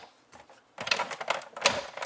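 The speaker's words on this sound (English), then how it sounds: "And these make really loud clicking noises, louder than any other framelits." Big Shot die-cutting machine rolling framelits dies through its plates, giving loud, rapid, irregular clicks and clacks close by, beginning after a short quiet lead-in and continuing steadily.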